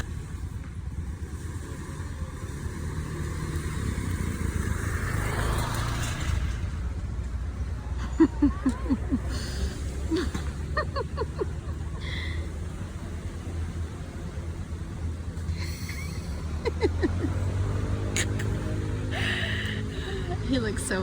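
Motorbike ride through Bali traffic, a steady low engine and wind drone heard from on board, with people talking over it throughout.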